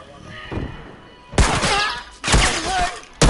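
In a multiplayer match of The Last of Us, a few sharp, close gunshots crack out in quick bursts with loud, ringing tails between quieter stretches.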